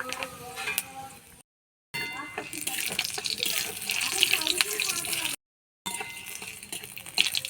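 Dry red chillies and panch phoron crackle and sizzle as they temper in hot mustard oil in a kadai, a steady hissing fry broken by two short silent gaps, with a voice talking over it.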